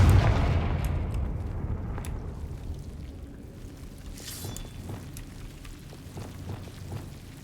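A Confringo fire spell explodes in Hogwarts Legacy, a loud booming blast that rolls off into a long fading rumble dotted with crackling debris and faint clicks.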